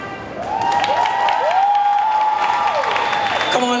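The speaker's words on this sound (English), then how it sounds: "Come on, ladies and gentlemen, a better round of applause." Crowd applause and cheering at a Clarendon festival queen pageant, steady clapping beneath an excited, high-pitched voice calling out over it.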